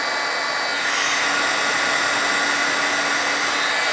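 Heat tool blowing hot air over craft paper to set stamped ink, a loud, steady, close whooshing drone with a faint hum running throughout.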